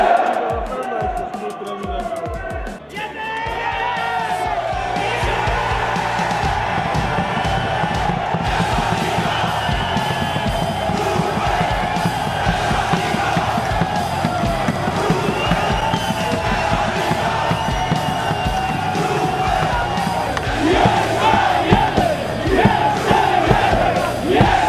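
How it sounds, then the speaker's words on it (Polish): Nieciecza football fans pack the stadium on Okrzei 20 in Gliwice, a large crowd roaring and chanting continuously, loud and sustained, with swelling cheers throughout. "Kibice z Niecieczy dopisali i tłumnie stawili się na stadionie przy Okrzei 20, aby z całych sił dopingować swoich piłkarzy"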